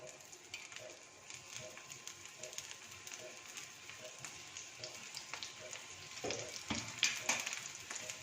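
A lachha paratha fries in desi ghee on a pan over a low flame, with a quiet, continuous sizzle that grows slightly louder toward the end.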